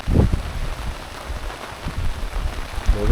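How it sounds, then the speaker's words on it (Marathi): Steady rain falls over a village garden with young trees, a broad even hiss with a few soft low thumps near the start and end, no voices. "पाऊस मस्त पडतोय"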